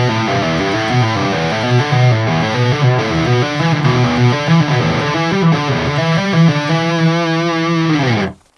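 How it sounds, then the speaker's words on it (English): A distorted electric guitar plays a legato pentatonic exercise on one string, a fast continuous stream of hammered and pulled notes jumping through the scale for about eight seconds, loud and up close, ending on a sudden stop. "this is an exercise that would sound like this."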